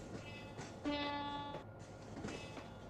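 An Indian Railways locomotive horn in the Trainz mobile game sounds in a short, fairly faint blast over steady train running noise.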